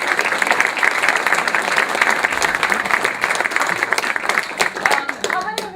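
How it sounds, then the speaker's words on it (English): An audience at a Cassini science evening lecture applauds the science team, sustained dense clapping that tapers off near the end, with a voice starting to speak as it fades. "if there's anybody who deserves a round of applause, it's the science team."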